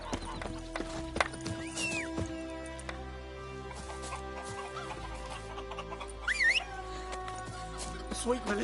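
Roach, Geralt's horse in The Witcher 3 game, with rhythmic clip-clop hoofbeats and a neigh, mixed with chicken clucks, music and game ambience.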